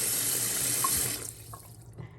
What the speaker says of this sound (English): I'm gonna turn my water on. I'm gonna take my bowl over here and I'm gonna just add water to my oxtails